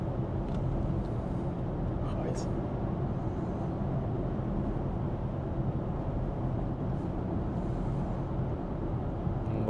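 An Xpeng G6 or BMW iX2 cruising at 80 km/h on driver assist, heard from inside as a steady, loud broadband road and engine rumble with no change throughout.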